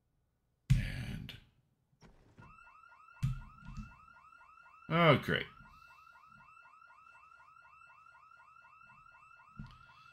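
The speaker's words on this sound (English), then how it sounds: "Setting off an alarm on the second house we enter." A house alarm in Project Zomboid starts up and keeps repeating a steady two-tone electronic warble, loud and continuous, while someone speaks briefly over it and a few clicks and knocks punctuate the start.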